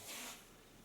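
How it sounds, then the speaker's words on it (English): Lanza hairspray gives a brief, faint hiss as it is sprayed onto thick hair, quickly fading in a quiet room. "Take a little bit hairspray."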